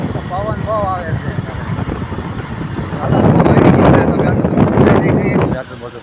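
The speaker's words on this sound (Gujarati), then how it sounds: "પવન બહુ આવે છે." Strong outdoor wind as light rain begins, a steady rough rush that swells louder and denser midway before easing at the end, with a voice heard briefly early on.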